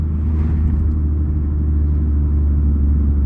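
A Nissan Skyline R32 GT-R's turbo engine with its blow-off valve deleted idles in a deep, steady low rumble, close and continuous with no talking.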